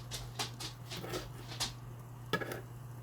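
A pet dog in a home kitchen gives a string of short, soft whimpers and whines, repeated in close succession with brief pauses, over a steady low electrical hum.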